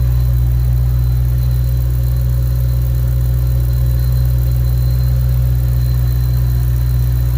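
A 2010 Shelby GT500 engine with a Whipple 2.3 supercharger idles steadily with a low rumble and a constant high-pitched supercharger whine running through it, continuous and close.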